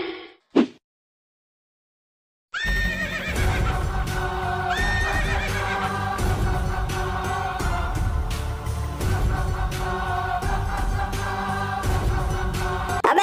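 A horse neighs loudly and close, with repeated whinnies rising and falling in pitch over a steady background after a brief quiet start.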